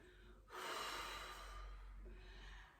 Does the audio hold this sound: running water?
no